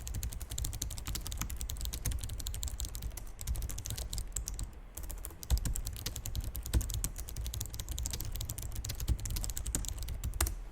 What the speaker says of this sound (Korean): 이 찰칵찰칵하는 기계식 키보드 감성이 장난이 아닙니다